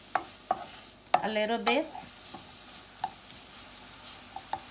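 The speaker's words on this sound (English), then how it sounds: "I'm gonna cook the onion" Red onion cooking in coconut oil in a pan, a soft low sizzle broken by occasional utensil taps and stirring scrapes, with brief speech partway through.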